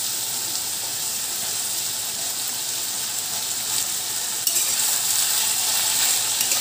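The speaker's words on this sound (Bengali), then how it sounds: "আলু দিয়ে একটু ওপর নিচ করে একসাথেই দুটো ভেজে নেব" Cut potatoes and bitter gourd fry together in a pan with a continuous loud sizzle that grows slightly brighter partway through as they are turned; no talking.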